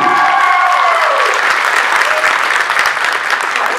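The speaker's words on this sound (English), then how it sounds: "So please give a warm welcome to Tiera Skovbye, please." Steady, dense applause from a convention audience welcoming a guest, close and loud throughout with a few faint shouts mixed in.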